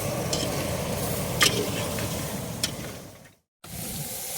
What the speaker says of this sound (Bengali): পনিরটা ভালো করে ভাজা হয়ে গিয়েছে